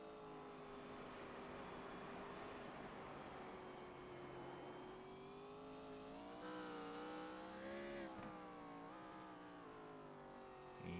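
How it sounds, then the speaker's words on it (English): Race car engine at Sonoma in a racing series event, holding a steady droning tone that rises and wavers without reaching full throttle, heard from a distance and continuous. "You can hear the car is not even getting a full throttle."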